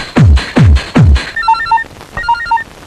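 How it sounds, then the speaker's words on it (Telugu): A telephone rings on a film soundtrack, heard as three sharp descending chirps followed by two bursts of warbling electronic ring tones, loud and close with no voices. "ఆనంద్, నీకే ఫోన్"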